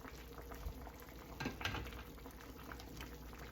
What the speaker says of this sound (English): Just kind of want it to simmer